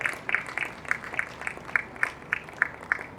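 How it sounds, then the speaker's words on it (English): Rhythmic clapping from a small audience at a corporate event, a steady beat of claps at a moderate distance with no voices over it. "A round of applause for him as he comes forward."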